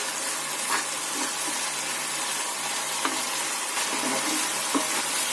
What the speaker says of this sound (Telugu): ఉల్లిపాయలు బాగా మగ్గేంత వరకు ఇట్లా కలుపుతూనే ఉండాలి